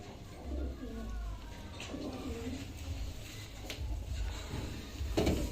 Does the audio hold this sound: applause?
no